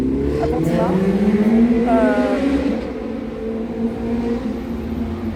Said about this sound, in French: Il y a des gens qui ont des problèmes de pot d'échappement apparemment ici.